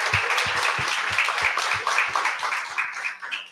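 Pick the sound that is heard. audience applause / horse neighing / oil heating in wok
audience applause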